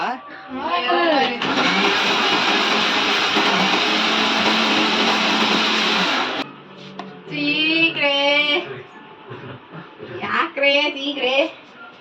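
A mixer grinder blends juice with sugar and milk, a loud steady whirring drone running for about five seconds before cutting off, with people talking before and after it.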